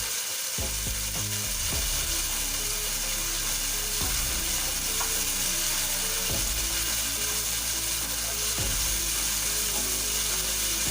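Garlic ginger paste frying in a pan over medium flame, a steady loud sizzle throughout with periodic scraping and stirring knocks against the pan.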